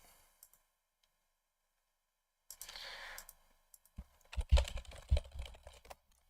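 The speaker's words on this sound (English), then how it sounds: "Sorry about my typing." Keys clack on a computer keyboard in quick bursts, quiet at first, then a run of close clicking taps after a short silence.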